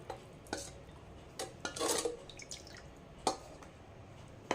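Manchurian sauce being mixed in a bowl: quiet, intermittent scraping and clinking of a spoon against the bowl, with a short burst of wet stirring in the middle and long hushed pauses between strokes.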